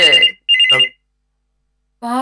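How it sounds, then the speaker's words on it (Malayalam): A telephone rings in short electronic trills, two bursts close together, then silence before a third begins. "ഫോൺ അടിക്കുന്നുണ്ട്, ആരാ നോക്കട്ടെ."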